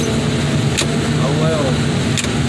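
A car crusher machine runs with a steady low mechanical drone and hum, broken by a couple of short clanks, with someone speaking over it.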